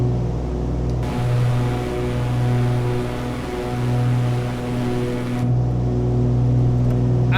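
A turbocharged aircraft engine drones at high revs in a flight simulator game: a steady, loud, tonal hum with a gently swelling roar and no talk.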